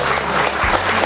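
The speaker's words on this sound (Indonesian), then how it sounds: "Tepuk tangan untuk mereka semua." A church anniversary audience breaks into a short burst of clapping for guests, dense and close, filling the whole moment.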